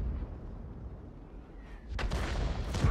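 M53/M55 self-propelled artillery gun firing in the tank battle video game World of Tanks: a low rumbling lull, then a single loud, sharp blast with a rough decaying roar near the end.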